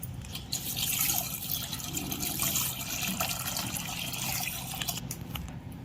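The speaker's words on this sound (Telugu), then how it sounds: "ఇప్పుడు ఇందులోకి మనం జున్నుపాల్లోకి మనం పచ్చిపాలు యాడ్ చేసుకోవాలి." Raw milk is poured into colostrum milk while making junnu, a soft, continuous liquid splash and trickle heard up close and fairly faint, lasting several seconds.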